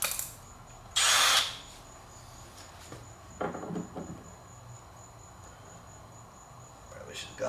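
A power drill whirs in one short, loud burst while driving a screw into a plastic pool lounger, followed by quieter clicks and handling noises, with a steady high insect-like whine in the background.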